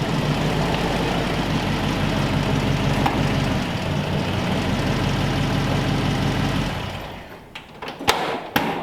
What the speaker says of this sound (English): that Chevy engine fired right up though